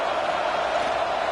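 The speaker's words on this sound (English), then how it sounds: "This crowd trying to do its part to get inside the kicker's head." Stadium crowd at a Wisconsin at Ohio State college football game, roaring loudly and steadily as a field goal is lined up, a dense distant wash of voices with no clear individual words.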